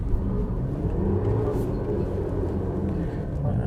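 A medium SUV strains under throttle during an off-road traction test, its engine giving a steady low rumble and drone close by, with someone talking over it.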